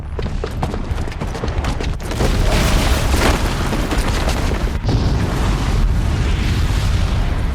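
Booby-trapped bomb exploding in Horizon Zero Dawn, heard as a loud, sustained roaring blast with rumbling debris that swells after a few seconds and keeps thundering to the end, close and overwhelming.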